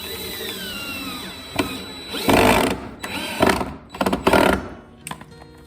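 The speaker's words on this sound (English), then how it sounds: "screwing it directly into your 2x3 support" A power drill drives a screw into a wooden 2x3 support for a garden bed, with several short, loud whirring bursts of varying length separated by pauses, close up.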